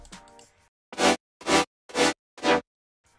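Chopped future house chords built in FL Studio, four short bright synth stabs in an even rhythm after a brief busier lead-in, loud and close with no voice.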